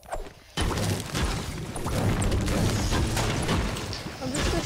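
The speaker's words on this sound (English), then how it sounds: "I'm just destroying these rocks." Shotgun blasts break rocks in a video game, loud crashing impacts in quick succession over dense game noise after a brief quiet start.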